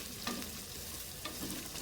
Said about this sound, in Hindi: ये देखिए अब अच्छी तरह ये फ्राई हो रहा है